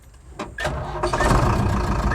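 A Tata 1109 BS3 diesel truck engine, checked for a starting fault tied to its flywheel, RPM and crankshaft sensors, cranks briefly and catches, then settles into a loud, close, steady idle.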